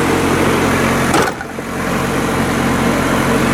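A car engine idles high at around 1500 rpm because of a faulty idle control, a steady close mechanical hum that briefly dips in the middle before settling back to an even drone, with no talking.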